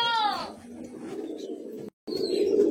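A High Flying Madrasi pigeon coos in a loft, with a short, rising-falling call at the start followed by softer low murmuring and a brief gap before the murmuring resumes.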